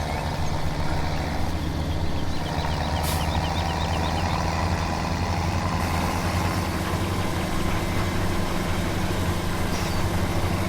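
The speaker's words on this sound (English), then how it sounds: "The tractor's not powerful enough." A tractor engine in Farming Simulator 17 runs at a steady, low, droning hum, close and constant with no change in pitch and no voices over it.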